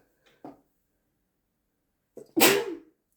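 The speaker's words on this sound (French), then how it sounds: "Pardon, à vos souhaits." A single loud, sharp sneeze bursts out near the end, preceded by a brief faint intake of breath and otherwise near silence.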